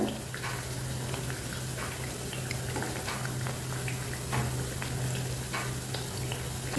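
Wheat and jaggery biscuits deep-frying in oil, a dense steady bubbling sizzle with a low hum underneath and a few soft clinks as they are turned, close and continuous with no speech.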